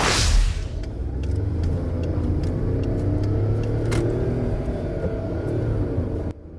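A car engine rumbles steadily for several seconds at moderate loudness, with a brief burst of noise at the start and light clicks over the drone, cutting off near the end.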